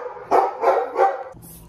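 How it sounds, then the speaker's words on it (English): A pet dog indoors lets out three sharp, close barks in quick succession, then falls quiet. "My dog literally started barking as soon as I started talking."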